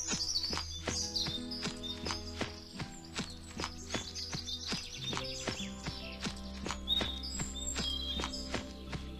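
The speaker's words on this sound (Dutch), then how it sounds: "In de verte hoorden ze een paard aankomen." Steady clip-clop of hooves in an even trotting rhythm, drawing closer, with birds chirping faintly in the background.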